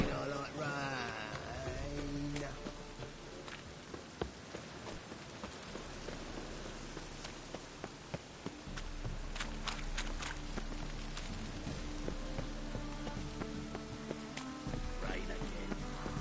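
Steady rain patters throughout in The Witcher 3 video game, with scattered footsteps and a low droning hum underneath; no talking.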